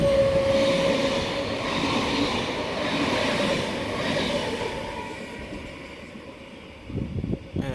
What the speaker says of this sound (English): Here we have a V-set passing platform number 2 for a Hamilton-Newcastle service.